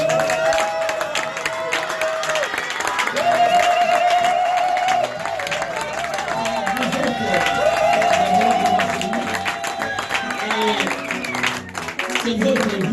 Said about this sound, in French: nous pouvons nous aussi nous mettre debout et applaudir